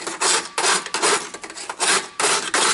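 Aluminum tubing being deburred on its inside edge after cutting for AN fittings: close, loud bursts of rasping scraping, about five strokes with short pauses between, no talk.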